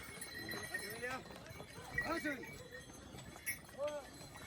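Horses clip-clop along the Kedarnath trek path in the mountains, hooves tapping in an uneven rhythm at close to middle distance, with a neigh-like call and people talking over them.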